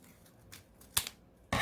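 Scissors cut through folded book pages for a paper flower craft, giving a few short, crisp snips close by and a louder, rougher rustle at the end.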